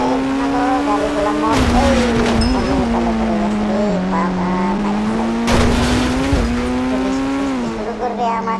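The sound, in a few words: motorbikes and cars racing in a video game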